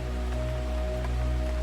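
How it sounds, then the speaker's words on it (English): Steady rain falls on forest leaves and pine needles, an even, soft patter filling the whole stretch without pause, with a low background hum beneath it and no voices. "rain began to fall, first gently tapping the leaves and needles, then building into a steady, soothing downpour"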